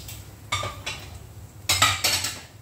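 A metal spatula scrapes and clanks against a wok while village chicken is stirred, several distinct bursts in two clusters over a low steady cooking hiss.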